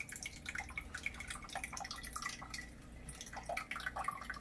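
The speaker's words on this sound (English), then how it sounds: "Pour, baby, just pour it right in." Water poured into a cooking pot while making spaghetti in a home kitchen, a steady splashing, dripping pour that runs without a break, close and fairly loud.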